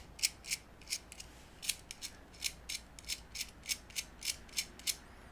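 Slide button on a Zippo Mechanic Dragon brass lighter worked repeatedly, giving a steady run of about a dozen crisp metallic clicks and ratcheting snaps, close and clear, with no talk.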